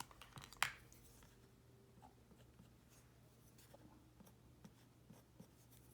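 Quiet scratching and light tapping of a Uniball Mitsubishi pencil on paper while colouring a fashion figure illustration, with one sharp click near the start and soft, faint strokes continuing afterward.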